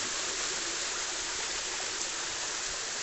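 Steady hiss of hill-fed water flowing down the Durgadhara waterfall stream in Amarkantak, even and continuous, moderately quiet, with no voices.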